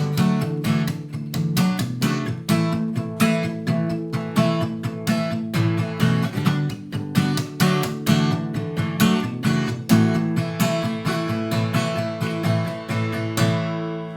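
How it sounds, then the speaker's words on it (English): Steady down strums on guitar in constant eighth notes, the bridge part of a song, ringing full and loud with an even driving pulse and no talking. "we get rid of the slaps and we strum down strums in constant 8 notes"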